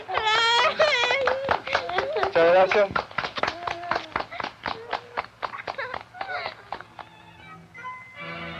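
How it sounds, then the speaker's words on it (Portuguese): An audience clapping, a run of sharp, distinct hand claps in quick rhythmic succession that starts loud and gradually thins out, with a voice speaking briefly near the start and a faint voice toward the end. "Palmas"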